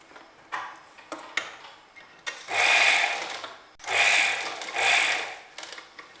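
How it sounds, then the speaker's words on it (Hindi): Sewing machine stitching fabric for a girl's skirt or jacket at a slow pace, with several short bursts of mechanical running separated by quiet clicks and handling noises, close and alone. "गोलाई पे आप मशीन थोड़ी धीरे धीरे चलाएं और बखिया थोड़ा बारीक कर लें"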